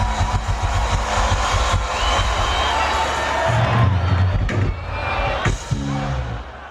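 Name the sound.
festival crowd cheering at Kenyan quartet concert in Goma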